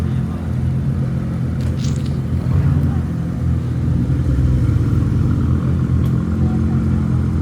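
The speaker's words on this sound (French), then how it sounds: "Macan, il fait un super beau bruit celui-là. Macan GTS." A Porsche Macan GTS engine runs with a deep, steady rumble and a slight rise in revs midway, heard close, while people talk faintly in the background.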